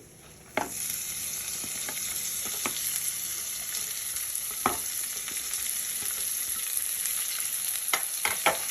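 Chopped onion and green chilli hit hot oil in a pan for an oats dish, sizzling and frying steadily throughout, with occasional sharp stirring clacks and scrapes of a spoon against the pan.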